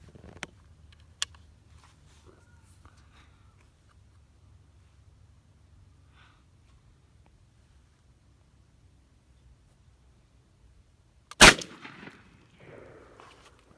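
A single sharp shotgun blast with Apex 9.5 ammunition cracks out at a target during turkey-season practice, loud and close after long near-silence, followed by a short fading rustle.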